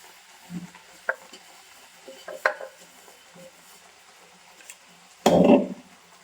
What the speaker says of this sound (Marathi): ह्याला व्यवस्थित मिक्स करून घेऊया.